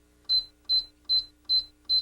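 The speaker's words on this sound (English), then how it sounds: "all the other settings except for rapid bake have an add ingredient signal that sounds like this" Five short, high electronic beeps from a Black and Decker All In One bread maker's add-ingredient signal sound in an even rhythm, each about 0.4 seconds apart, clear and close over a faint hum.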